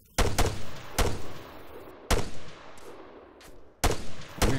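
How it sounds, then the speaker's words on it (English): Gunfire in the video game ARMA 3: several sharp, loud shots in separated bursts, each followed by a decaying echo across the open terrain, with no talking. "We're being shot back at."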